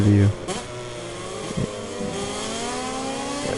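A MotoGP motorcycle engine revs in a racing video game, a loud buzzing engine note rising steadily in pitch with talk over it.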